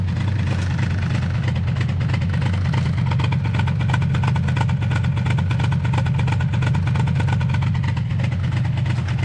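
A VW Golf 2 GTI 8S engine idles while warming up, giving a steady, close low rumble with an even mechanical pulse and nothing else over it.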